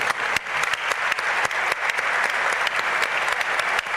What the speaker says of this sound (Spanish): Alonso Cepeda Salas, para quien pedimos un aplauso y un agradecimiento.